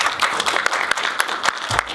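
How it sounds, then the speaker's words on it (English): Brief scattered applause from a film talk audience, a few distinct claps over about two seconds, fairly close and moderately loud. "we should just give her a round of applause."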